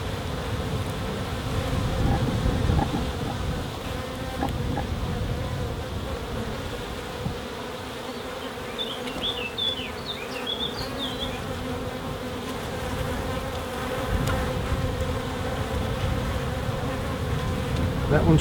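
Honey bees buzzing around an open beehive during a frame inspection, a dense, continuous droning hum close to the microphone, with individual bees zipping past now and then.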